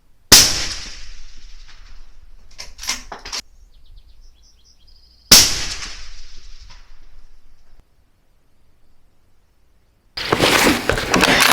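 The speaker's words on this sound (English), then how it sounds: "Okay, there's rifle 1, round 1." Two sharp, loud Benelli Lupo bolt-action rifle shots fired at a paper target on a range, spaced about five seconds apart, each with a brief ringing tail, followed by a burst of wind buffeting the microphone.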